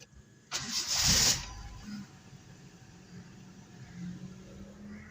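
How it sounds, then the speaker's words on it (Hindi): A car engine in Lahore cranks and catches in one loud burst, then settles into a low, steady idle that carries on quietly for several seconds. "गाड़ी को करते हैं स्टार्ट"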